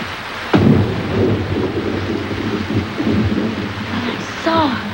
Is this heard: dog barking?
no